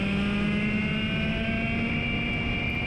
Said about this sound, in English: this engine, the X30, even though I don't think it's quite as good an engine as the Rotax